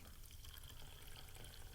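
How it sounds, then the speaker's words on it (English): Plain tap water running from a faucet into a cup, a steady soft rushing and trickling stream that stays even and fairly quiet for the whole stretch, heard alone with no talking. "I'm going to fill this cup up with just plain old tap water"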